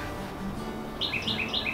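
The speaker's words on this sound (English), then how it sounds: "I've got a noisy little bird up here" A few quick, high bird chirps in a short cluster, moderately close, over a faint steady background hum.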